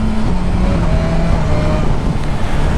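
A 2021 BMW S 1000 R motorcycle engine at steady, loud roar on the road, with a brief dip as the quick shifter snaps through a gear change.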